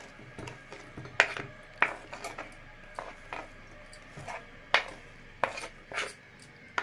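Onion being chopped with a knife on a board in a home kitchen, a dozen or so crisp, irregular cuts, close and moderately loud, with no talk.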